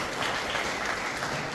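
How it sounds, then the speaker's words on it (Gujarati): Applause from the audience at a senior citizens' annual gathering, a brief burst of continuous dense clapping heard close and steady. "તાળીઓ ચાલુ રાખજો."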